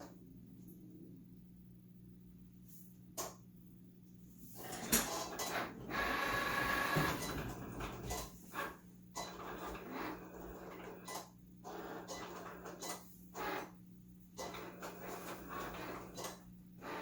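A Cricut machine cuts heat transfer vinyl with a quiet, steady mechanical whir and a low hum. Intermittent clicks and short carriage movements punctuate it, with a louder busy stretch partway through.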